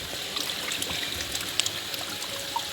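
Water flows strongly from a natural source fed through tree roots, a steady close trickling and gurgling rush with small splashy bursts throughout and no voices.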